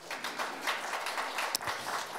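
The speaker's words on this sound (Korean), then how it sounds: "박수로 하진 선생님 환영해 주시면 감사하겠습니다" Soft, distant clapping from the audience welcoming a writer at a diaspora literature forum, with a low, scattered patter over roughly two seconds and one sharper knock.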